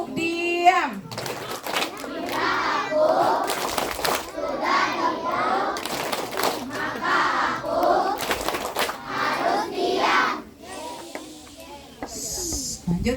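Schoolchildren perform the tepuk diam clapping chant in a classroom, with a group of young voices chanting together and several loud, sharp bursts of unison hand claps punctuating the rhythm.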